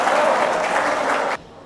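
An audience breaks into dense, loud applause that fills the space for about a second and a half, then cuts off abruptly.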